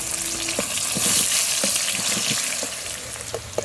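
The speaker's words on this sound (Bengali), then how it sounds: "আলুগুলো ভাজা কমপ্লিট হয়ে গেছে" Potatoes frying lightly in oil produce a steady, close sizzle, broken by soft scrapes and taps of a spatula stirring the pieces.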